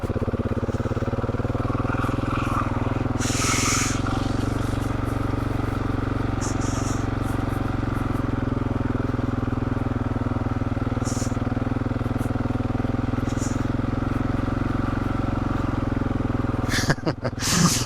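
Motorcycle engine laboring steadily through deep sand on a desert loop in Wyoming's Red Desert, a constant close droning rumble with brief rises in revs and a clattering burst near the end.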